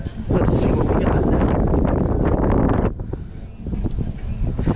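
Strong wind blows on Kailua beach in Hawaii, buffeting the microphone with a loud, steady low roar that eases briefly before gusting again.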